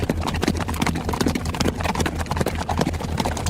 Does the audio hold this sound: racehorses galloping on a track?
yes